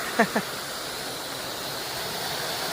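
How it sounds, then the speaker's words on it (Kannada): Honnammana Halla waterfall near Chikmagalur, running low on water, gives a soft, steady rushing hiss. Two brief voice-like sounds come near the start. "ನೋಡಿ ಹೊನ್ನಮ್ಮನ ಹಳ್ಳ, ಅಲ್ಲಿಂದ ನೀರು ಬರುತ್ತೆ"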